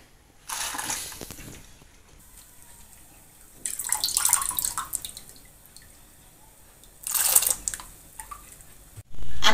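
Soaked chana dal for puranpoli goes into a pot of boiling water in three separate, close splashy pours, with a quiet bubbling simmer between them.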